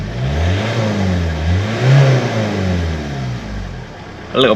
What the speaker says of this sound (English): Now I will rev it up, but you probably won't hear anything, but there is a little bit of